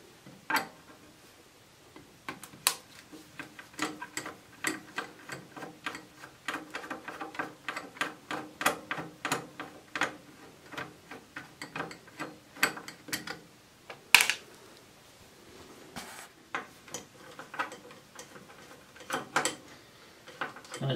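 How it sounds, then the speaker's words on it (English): Screws being undone on a Labgear LG300 transmitter, a quiet run of rapid small ticking and ratcheting clicks in uneven bursts, close by and alone with no voices. "So I've got quite a few of these screws to undo."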